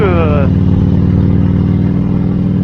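A fuel-injected motorcycle engine on a road touring bike runs in a smooth, steady low drone, close and loud, with a brief voice at the very start.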